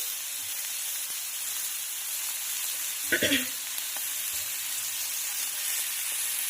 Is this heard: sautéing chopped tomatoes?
yes